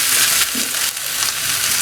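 Crushed ingredients sautéing in hot oil in a pan for a kappa (tapioca) dish, a loud, steady close-up sizzle with brief stirring scrapes.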